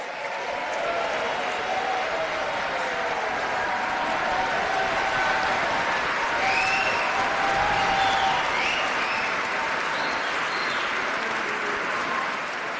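Legislators applaud in the State Assembly chamber in Albany, a long, steady roar of many hands clapping that holds evenly throughout, with faint tonal sounds above it.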